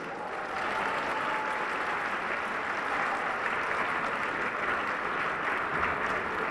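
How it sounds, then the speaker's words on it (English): A banquet audience at a New Year community event claps for the performers of a local entertainment program, a loud, sustained roar of many hands that swells in after a brief quieter start and holds steady. "Please give a big round of applause for all performers."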